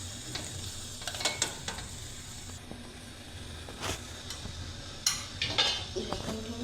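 Kochai vadi cooks in a pan and is flipped, with a soft sizzle under scattered scraping and clinking of a utensil against the pan. The sounds come in several light bursts and are moderately quiet and close.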